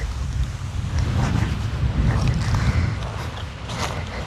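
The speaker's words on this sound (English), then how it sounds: "I'm sure you're going to be so shocked to know it was a tractor again." A tractor passes near a cemetery on an autumn walk outdoors, a steady low engine rumble that swells and eases under gusting wind noise, with no talking.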